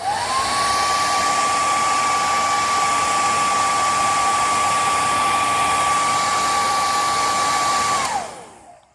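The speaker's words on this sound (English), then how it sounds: "And then last thing is to blast it with a hairdryer." A hair dryer blows loudly and steadily for several seconds with a constant high whine over a tied salmon fly, then switches off and winds down.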